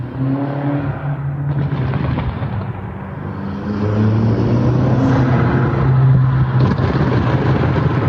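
Loud, sharp pops crackle in a rapid, irregular burst from a BMW sedan's exhaust over a steady engine drone, sounding almost like gunfire.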